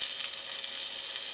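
Sausages frying in a pan inside a van, a steady high sizzling hiss that is close and continuous and has no talk over it.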